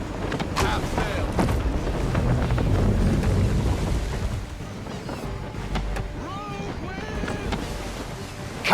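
A sailing ship under full sail in Assassin's Creed III, a loud rush of wind and water surging continuously with creaks and crashing swells, while voices shout over the noise.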